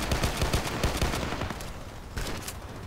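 Rapid bursts of hip-fire gunshots from a shooter video game crackle close and loud, volleys clustering densely in the first half before thinning to scattered shots.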